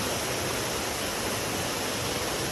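Momiji-taki waterfall in Japan roars in a dense, unbroken rush of water, loud and close, with no voices over it.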